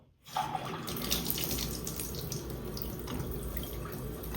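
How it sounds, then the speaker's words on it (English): Water starts running from a newly installed bathtub spout and gushes into the tub in a steady, full, splashing stream, close and fairly loud, continuing unbroken to the end with no talking. "Let us now test this beautiful tub spout."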